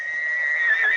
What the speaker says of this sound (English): What does the horse say?